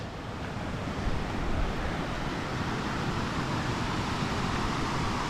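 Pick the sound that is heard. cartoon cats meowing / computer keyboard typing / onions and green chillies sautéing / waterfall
waterfall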